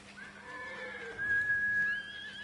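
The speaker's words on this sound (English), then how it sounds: "Horse!" A horse in the samurai video game Ghost of Tsushima whinnies with a long, wavering cry that rises and swells louder toward the end of the moment, standing mostly alone over faint game ambience.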